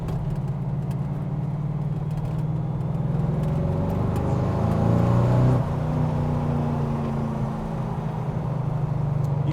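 A Ford GT40 replica, a Tornado, accelerates on the road, its engine note rising steadily through the revs before easing off, heard from inside the car with a constant low drone and no talk.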